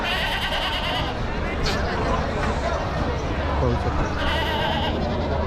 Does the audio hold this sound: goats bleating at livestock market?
yes